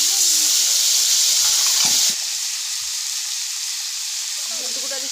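Ginger, garlic and onion paste hits a hot pan for a Bengali spinach and eggplant dish, sending up a loud, steady sizzle that drops a notch partway through and keeps hissing close by, with a faint voice briefly underneath.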